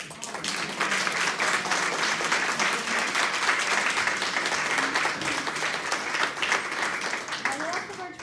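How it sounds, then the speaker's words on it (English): Audience applause fills a tea party hall, dense and sustained clapping for the full stretch with a few voices mixed in. "Again, big round of applause."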